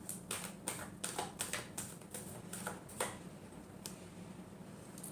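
Tarot cards being shuffled during a Gemini love reading: a quick run of crisp, dry riffling clicks close by, in several short bursts with brief gaps, then fading out near the end.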